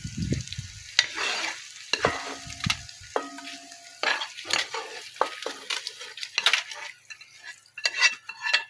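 Stew frying in a pot in a home kitchen, with a steady sizzle broken by repeated spoon stirs and scrapes against the metal, close and fairly loud, with no talking.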